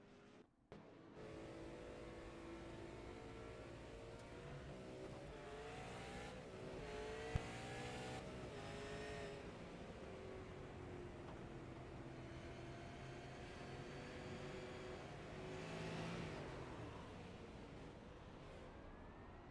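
Onboard engine of the number 8 race car lapping Kern Raceway in the iRacing sim, a steady sustained drone with rising and falling pitch as it accelerates and lifts, no talk over it.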